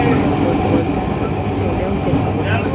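A steady, loud rumble of a train arriving close by, with faint voices underneath the roar.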